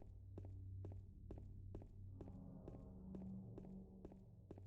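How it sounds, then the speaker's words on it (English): Footsteps in the video game Silent Hill 2, regular, evenly spaced thudding steps, roughly two per second, over a low droning ambient hum, with no voices. "God, I love how the sound changes for the footsteps."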